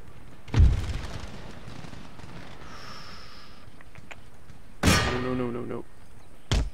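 Musket volleys crack across the battlefield in Empire: Total War, two loud separate bursts a few seconds apart, each rolling off into a fading rumble over quiet ambient noise, with faint voices between.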